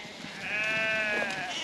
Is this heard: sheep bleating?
yes